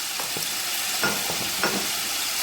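Butter and garlic powder sizzle in a pan for hot wings, a loud steady frying hiss with occasional scrapes of stirring.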